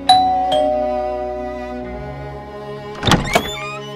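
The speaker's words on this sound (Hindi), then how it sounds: "फ्लैट की घंटी बजा देते हैं।" A ding-dong doorbell rings at a flat in South Delhi, with two sharp chimes that ring out and fade, then a burst of clattering thumps near the end.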